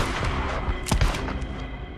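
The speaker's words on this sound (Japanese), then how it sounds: "間違って銃声鳴らしたから" Gunfire in the video game Days Gone: a couple of sharp, booming shots land close together midway, standing out over a low, busy in-game background rumble.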